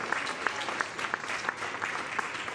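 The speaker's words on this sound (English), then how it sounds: "Absolute roar from the crowd there." Spectators applauding at a canoe sprint World Cup medal ceremony in Poznań, Poland, a steady close patter of many hands clapping with sharp individual claps, briefly and alone.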